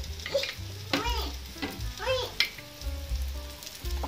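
Jowar flour dhirde frying in oil on a pan gives a soft, steady sizzle beneath warbling background music, with a few light scraping touches.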